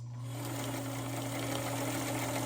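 Sewing machine re-stitching a slipped corner seam on a 5-inch quilt block, a steady close motor hum with rapid needle clatter running continuously without talk.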